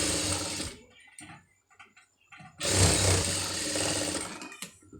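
A sewing machine stitches a sleeve joint in two loud runs of whirring, separated by a quiet gap with small handling clicks and fabric sounds.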